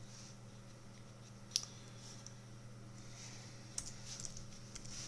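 A few light, sparse key clicks from a computer keyboard while names are typed into a document, faint over a steady electrical hum.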